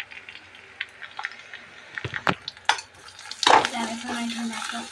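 Spoon stirring turmeric, spices and dal in a pan for an egg and chickpea lentil curry, with scattered scrapes and clinks, then a louder burst of sizzling frying near the end.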